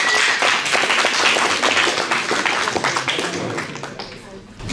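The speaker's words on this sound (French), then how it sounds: "Veuillez l'accueillir avec un tonnerre d'applaudissements" Audience clapping fills the space, dense and steady at first, then thinning and fading toward the end, with some voices mixed in.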